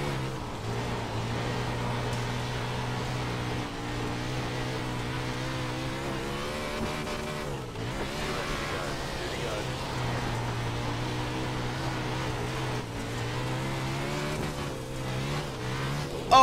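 Sim-racing engine audio from non-wing 360 sprint cars at Charlotte in iRacing: a steady, loud, droning engine note holds throughout with a brief dip near the midpoint, and commentary talk sits over it.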